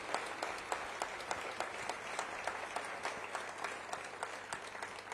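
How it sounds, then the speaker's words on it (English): An audience in London gives a round of applause for an all-party delegation of Indian members of parliament, sustained clapping heard faint and distant throughout. "I want to begin by asking all of you to do a round of applause for our members of parliament from all walks of life"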